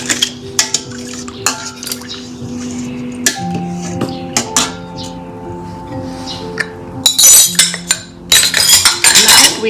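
A metal utensil mixing rice and liquid in a pot, loud clinks and scrapes against the pot in irregular bursts, with ringing tones between strikes and brief sloshing toward the end.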